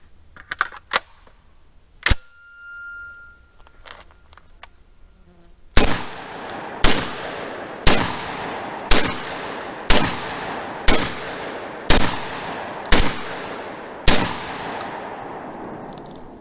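A Rock Island Armory VRBP-100 12 gauge bullpup shotgun fires high and low brass shells from a 9-round magazine outdoors: a few scattered early shots, then nine loud, sharp blasts at a steady pace about one second apart, each with a ringing tail.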